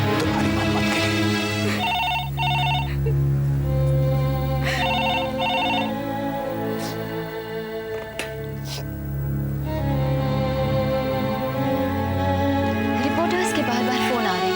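A telephone rings in repeated double bursts over continuous music, the electronic tone recurring every few seconds throughout.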